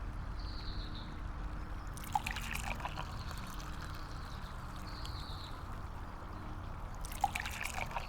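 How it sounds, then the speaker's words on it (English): Tea poured into cups in a calm clinic-style setting, two distinct pours of liquid trickling steadily, each a few seconds long, near and fairly soft over low background noise. "I will pour a cup for each of us."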